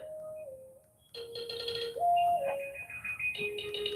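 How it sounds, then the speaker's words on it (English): A work phone rings with a bright electronic melody of shifting pitched tones, fairly close and clear after a brief quieter start. "My work phone is ringing."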